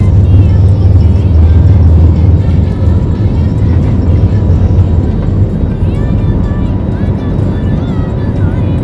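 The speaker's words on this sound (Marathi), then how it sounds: "त्यानंतर विमानाने टेक ऑफ घेतला" Inside an airplane taking off, a loud, steady, low engine roar fills the cabin and holds throughout with little change.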